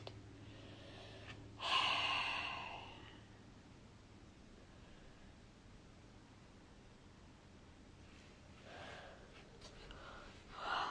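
A person imitating labored breathing with a sharp, raspy gasp, followed by quiet airy breaths and another strained inhale near the end, close and faint over low background hiss.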